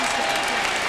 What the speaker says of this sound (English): The applause is for Maurice Harris getting up.